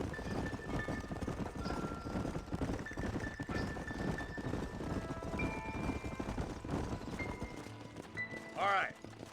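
Horses' hooves clop steadily on the ground in the Red Dead Redemption video game, a continuous rhythmic trotting heard under speech and game ambience.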